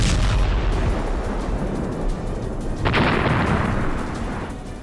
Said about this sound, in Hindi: तभी हिमार्स रॉकेट जोरदार धमाके के साथ उसे तबाह कर डालता है